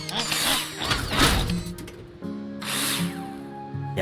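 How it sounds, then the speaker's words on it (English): A power drill in the Builder Simulator game drives screws into plasterboard, loud whirring bursts rising and stopping in pulses, close and up front with no talk. "After installing the plasterboard, you'll need to use nails to attach it. Take your drill out and screw them in."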